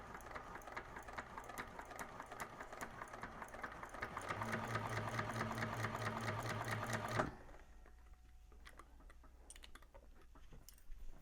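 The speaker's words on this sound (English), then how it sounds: "you may want to hand crank around that curve" A home sewing machine stitches a drop-in lining for a convertible bag, hand-cranked around a curve: a steady, close rapid clatter that grows heavier midway, then stops abruptly, leaving faint handling sounds.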